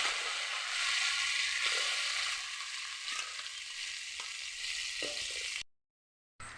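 Curry leaves and mustard seeds frying in hot oil for a Kerala-style sardine curry: a loud, continuous crackling hiss with a few small pops, then a brief cut to silence near the end.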